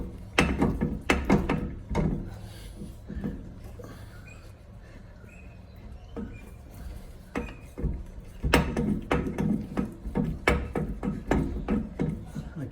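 On a Holden VZ Commodore, a tool winds the brake caliper piston back in, making close, rapid ratcheting clicks in bursts with a quieter pause midway, with some low talk around it.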